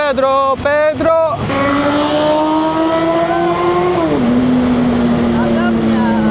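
A motorcycle engine revs hard in Rome traffic, loud and close, with a few quick throttle blips before a sustained rising roar that drops in pitch and settles into a steady drone.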